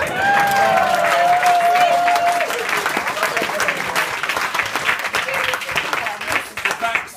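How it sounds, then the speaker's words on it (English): Wedding guests break into applause and some cheering for the bridesmaids during a best man's speech, a lively crowd round with a whistle or voice rising over it early on. "a quickie round of applause just for the bridesmaids"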